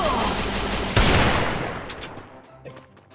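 A heavy gunshot from a shotgun or Desert Eagle in a shooter video game, sharp and close over continuous game noise, then tailing off.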